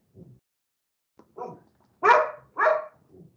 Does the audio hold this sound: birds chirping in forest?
no